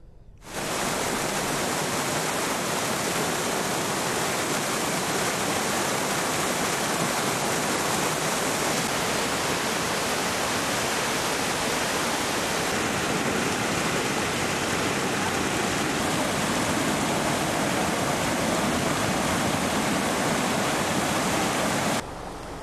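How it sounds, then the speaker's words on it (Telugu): Flooded streams and brooks rush after heavy rain in Khammam and Bhadradri Kothagudem, making a dense, loud, steady roar of water that runs unbroken for the whole stretch. "వాగులు, వంకలు పొంగి ప్రవహిస్తున్నాయి."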